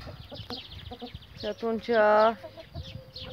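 A Brahma rooster clucks in a short, near burst of clucks, the loudest rising into a strained, drawn-out call, while a person talks quietly around it.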